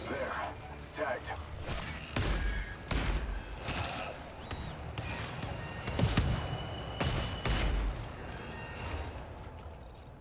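Gunfire in the video game GTFO, a series of sharp separate shots spread across the stretch, with someone talking over the game sound.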